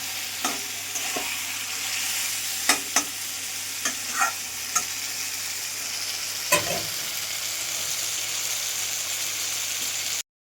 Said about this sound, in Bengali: এটা 5 মিনিট করে কষিয়ে নেবো, 5 মিনিট করে কষিয়ে একটু ঢেকে ঢেকে কষিয়ে নেবো।